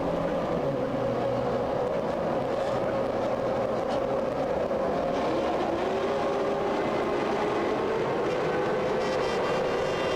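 Formula One cars of 1998 sit on the Monza grid for the start of the Italian Grand Prix. A steady, dense engine roar holds throughout with a sustained droning pitch and crowd-like wash, with no talk.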